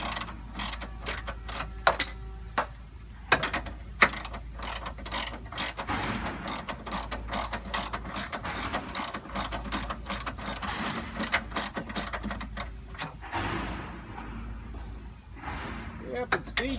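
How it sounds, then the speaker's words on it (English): A hand ratchet turns a bolt on a third-generation Camaro control arm, making rapid, close clicking in long runs with short pauses, then a quieter stretch of mechanical handling toward the end. "God forbid, use an actual ratchet."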